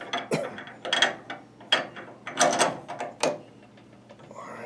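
A small machine vise on parallels being retightened in a machine shop gives a run of quiet metallic clicks and ratcheting turns in short, irregular bursts, close up with no talking.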